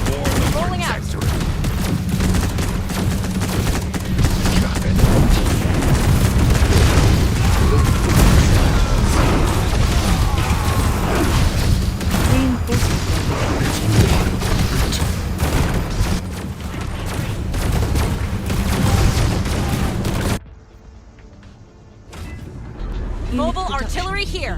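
Heavy artillery fire and explosions in the sci-fi strategy video game Zero Space, dense rolling booms and rapid bursts of gunfire, with game announcer voice lines over the barrage before it cuts to quieter play.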